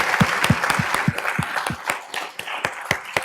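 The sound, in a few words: audience round of applause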